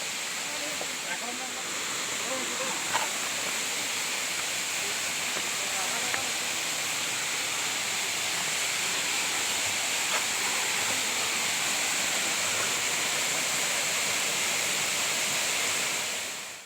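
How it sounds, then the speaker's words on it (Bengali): Dharagiri waterfall in Ghatsila roars as a steady, dense wash of falling water, loud and unbroken throughout, heard close from in front of the falls. "ফাইনালি এতটা কষ্ট করে আমরা চলে এসেছি ধারাগিরি ফলসের সামনে।"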